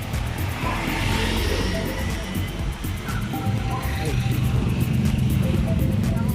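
Steady street traffic with cars passing in a continuous broad roar and occasional higher tire or engine tones, close and loud throughout.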